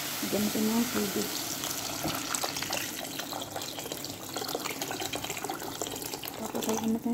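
Water pours steadily into a cooking pot for mushroom shorba, a continuous splashing stream heard fairly close, with a voice speaking briefly at the start and again near the end.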